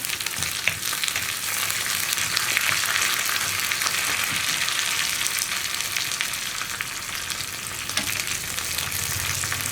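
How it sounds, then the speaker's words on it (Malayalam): Curry leaves frying with ginger and onion in a pan over a low flame, giving off a loud, steady hiss and crackle that holds for nearly ten seconds without any voices. "കറിവേപ്പിലയും ചേർത്ത് കറിവേപ്പിലയും ഒന്ന് കുക്കായി തുടങ്ങണം"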